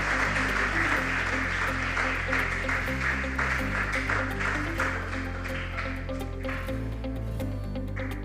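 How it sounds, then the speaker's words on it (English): An audience at a school quiz contest claps in a steady round of applause for the contestants, with a low hum and tonal background beneath the clapping. "Shall we give them a round of applause?"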